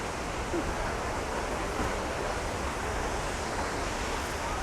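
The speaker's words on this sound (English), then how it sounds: "you can hear the water crashing down" A waterfall in Oregon sends water crashing down in a steady, dense roar of rushing noise, heard from nearby on a bridge and unbroken throughout, with no talking.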